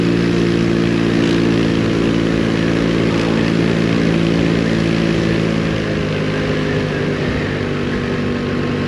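A Lambretta V200 scooter engine revs up steadily under acceleration, its loud, continuous drone filling the whole stretch with harmonic tones that shift slightly in pitch as it opens up.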